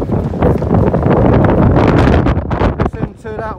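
Strong wind buffets the microphone on the upper deck of the cruise ship MSC Virtuosa, a loud roaring gusty rush that eases slightly toward the end, with a voice briefly audible.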